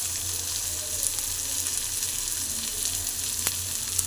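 Sliced okra fries with turmeric powder in a pan for a quick palya, giving a steady, close sizzle with faint stirring scrapes and no voices.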